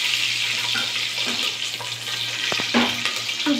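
Four green chillies frying in oil for mutton biryani give a steady, close sizzle, punctuated by a few short scraping stirs of a utensil against the pan.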